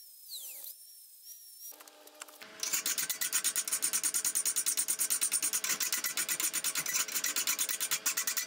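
A hand file rasps across a small hand plane in quick, even back-and-forth strokes, close and steady after a short quiet start with a brief whine.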